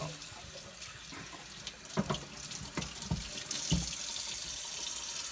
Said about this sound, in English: I'm gonna rinse all that off real good